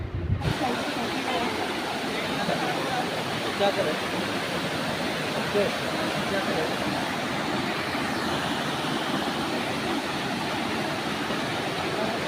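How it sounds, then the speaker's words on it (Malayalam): A monsoon waterfall roars in a constant, dense rush of white water that stays steady and loud for the whole stretch, with no let-up. "വെള്ളച്ചാട്ടത്തിൻ്റെ കാഴ്ചകളൊക്കെ വീഡിയോയിൽ വരുന്നുണ്ട്."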